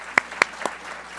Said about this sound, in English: Join me again for another round of applause.